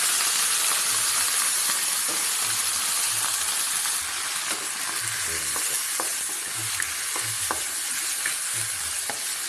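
Steady loud sizzling and hissing of sardines and bottle gourd (upo) frying in a pan, continuous throughout with faint occasional clinks and stirring.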